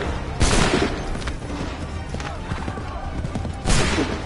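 Musket volleys crash out in Assassin's Creed III, two loud broadband bursts roughly three seconds apart with a rumbling battlefield din and speech between them.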